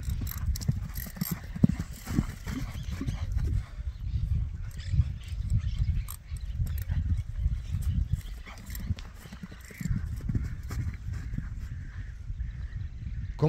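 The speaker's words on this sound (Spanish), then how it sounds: "Bien trabaja el caballo." Horse hooves clip-clopping in a steady trotting rhythm on the ground, moderately close, with low rumbling and a few faint background noises.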